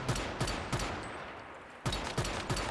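Rapid, evenly spaced gunshots from a rifle with a reflex sight in the survival shooter video game Once Human come in two quick bursts with a brief pause between, close and punchy, with no talk.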